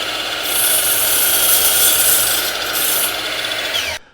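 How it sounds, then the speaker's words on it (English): A miter saw whines loudly as it makes a 30-degree angled cut across the end of a wooden block for a planter box, the blade noise swelling and then stopping abruptly near the end. "we're going to make a 30 degree cut at the end of our block"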